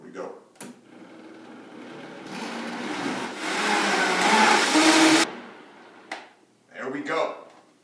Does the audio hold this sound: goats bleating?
no